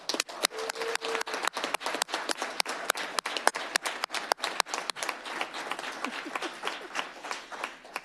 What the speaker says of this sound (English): Let's give a big round of applause for all of our recognitions